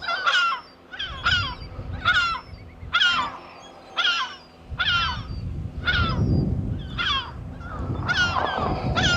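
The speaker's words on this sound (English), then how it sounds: "Seagulls." Seagulls calling on the Humber bank, a steady run of loud, repeated honking cries roughly every second, close by, over rumbling wind and outdoor background noise.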